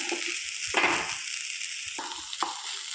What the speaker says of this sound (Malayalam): ആവശ്യമായ ഉപ്പ് ചേർത്ത് നമുക്ക് ഒന്നും കൂടി ഒന്ന് ഇളക്കി കൊടുക്കാം.